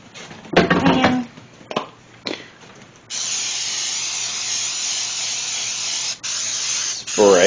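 A cooking spray can coats a 9x13 baking pan, hissing in a long steady burst lasting several seconds, with a short gap and a second burst near the end, close and loud.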